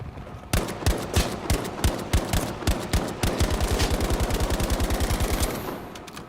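Rapid bursts of automatic gunfire from a video game fire close and loud, first as spaced single shots and then as a sustained fast stream before trailing off.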